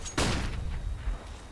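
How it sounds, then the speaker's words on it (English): A flashbang grenade going off in a tactical shooter game, one sharp loud bang early on followed by a fading rumble and a smaller thud. "I'm throwing a grenade. Flashbang."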